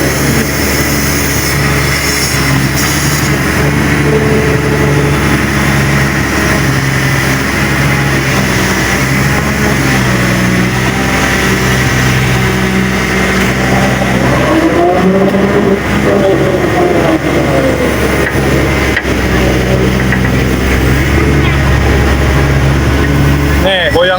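A garbage truck's diesel engine runs loud and steady while it dumps waste at a polluted river, rumbling continuously with revving swells throughout.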